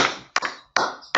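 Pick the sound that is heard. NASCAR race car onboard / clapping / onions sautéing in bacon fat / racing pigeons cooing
clapping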